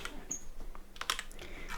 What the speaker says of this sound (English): So we can type in hello here, and we can type in this is a test.